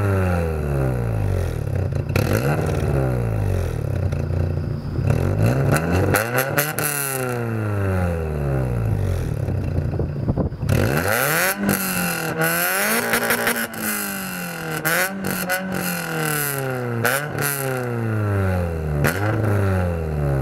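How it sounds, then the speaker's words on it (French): A Renault Twingo RS with a fully modified loud exhaust revs repeatedly, its engine pitch rising and falling in sharp, throaty sweeps, close by and continuous. "Et voilà un peu pour le son de la voiture"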